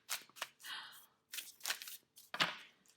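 Close, crisp riffling bursts of tarot cards being shuffled repeatedly, several quick flurries separated by brief pauses.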